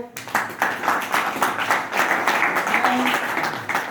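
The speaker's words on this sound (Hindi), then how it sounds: "आज तालियां बजाओ जरा इसके लिए" A group claps in a steady, rhythmic burst of applause that continues throughout, fairly loud and close, with no clear talk over it.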